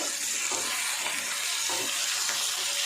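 Halved tomatoes and coriander saute in a pan for a mushroom gravy, giving a dense, even sizzle with faint stirring pulses throughout. No one speaks.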